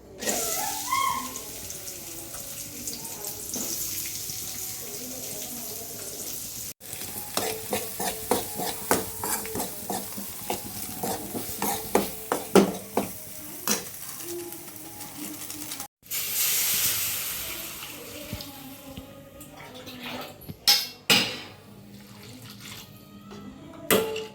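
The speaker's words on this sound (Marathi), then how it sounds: "पहिल्यांदा त्या टाकलेलं ना कांदो आणि मिरची भाजून घ्यायच्या" Onions and chillies roast in a pan, with a soft sizzle under them. A spatula stirs and scrapes in repeated clattering strokes at close range, sometimes in quick bursts, and there are short pauses between the spells of stirring.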